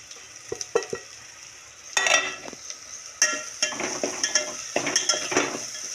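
Spices, including garam masala and salt, are sautéed in a pan with repeated scraping and stirring over a continuous light sizzle, and the utensil clinks in irregular, close bursts.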